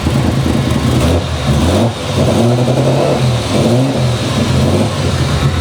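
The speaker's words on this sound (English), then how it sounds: "Let's give it a quick rev." An old car's engine is revved up close and loud, a rough droning roar that dips briefly near two seconds and then surges again, with no talking over it.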